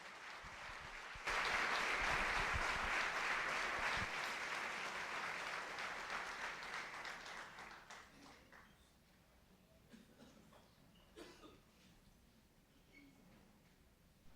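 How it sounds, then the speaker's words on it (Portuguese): A church congregation bursts into applause during a ministry training service, loud dense clapping that starts abruptly and holds for several seconds, then gradually fades into scattered claps and room noise. "Você pode aplaudir o Senhor por isso?"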